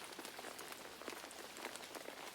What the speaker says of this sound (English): The sky darkened some more, and the rain fell heavier.